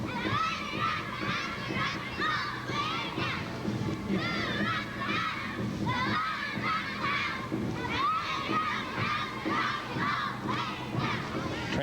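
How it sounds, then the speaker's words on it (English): Football players, cheerleaders and pom-pom girls marching in a Veteran's Day parade in Palmerton shout excited cheers, a dense, continuous crowd of raised voices in unison chants and yells throughout. "I can hear them shouting out there, doing some of their cheers."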